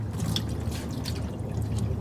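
Water dripping and trickling out of the engine of an abandoned 1973 Dodge camper, a steady run of close, irregular drips over a low background hum.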